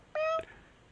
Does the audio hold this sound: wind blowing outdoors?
no